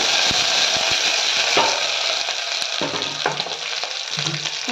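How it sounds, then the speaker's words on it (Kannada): Garlic and a small onion fry in hot oil for a tempering, giving a loud, steady close sizzle with scattered metallic spoon clicks and stirring scrapes, no talk. "ಇದು ಫ್ರೈ ಆಗ್ತಾ ಇದೆ"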